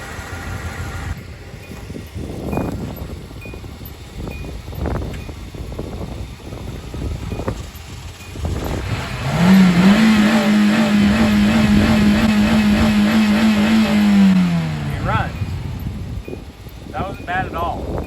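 An old ten-dollar car, jump-started with jumper cables, cranks in uneven bursts and then catches into a steady droning idle that runs for several seconds before dropping off, with voices talking around it.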